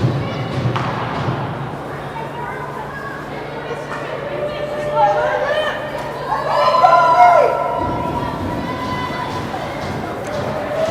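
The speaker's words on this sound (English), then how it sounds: "Preds fans cheering for another goal here on this power play" Fans at a girls' U19 hockey game in Detroit, Jr. Preds against Badger City, cheer a power-play goal: a rink crowd swells into a roar with whistles and shouts mid-clip, over thumps and a commentator's voice.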